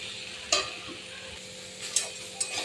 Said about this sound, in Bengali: একটু শাক এভাবে ঘেটে ঘেটে দিতে হয়, তাহলে আরও ভালো হয়।